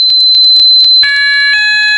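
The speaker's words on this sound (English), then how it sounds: "you can literally click a button, and it activates the alarms" Fire alarm in a Roblox game sounding continuously: a rapid repeating electronic bell pulse, then steady layered alarm tones join in after the first second, loud and with no talk.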